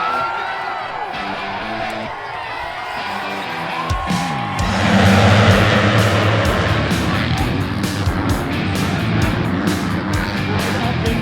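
A pack of motocross bikes roars out of the starting gates, engines rising from a steady drone into a loud, dense, revving blare that holds for several seconds, with some talking underneath.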